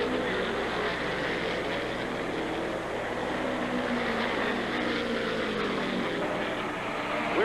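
A Ford Hawk race car driven by Mario Andretti at the Indianapolis 500 gives a continuous broad roaring drone, steady and fairly loud throughout, with no distinct pass-bys.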